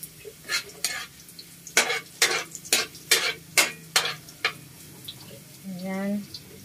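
Dinuguan meat browning in a pan, with a run of about ten rhythmic scraping stirs over a light sizzle, ending in a short voiced sound.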